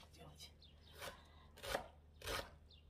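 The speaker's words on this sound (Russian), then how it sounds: "Вот так я режу лук." An onion is chopped with a knife on a board for making manti, giving four or five quiet, separate cutting thuds at an uneven pace, close by and soft.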